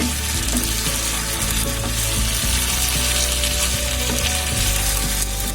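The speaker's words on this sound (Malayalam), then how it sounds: "നമ്മൾ നേരത്തെ വേവിച്ച് വെച്ച ചിക്കനാണിത്. നമ്മളിതിലോട്ട് ഇട്ട് കൊടുക്കുകയാണ്. ഇത് നല്ലപോലെ ഇതൊന്ന് നമുക്ക് മിക്സ് ചെയ്ത് കൊടുക്കാം." Precooked chicken frying in a pan while being mixed, a loud, dense and constant sizzle with repeated scraping strokes of a spatula, up close and with no voices.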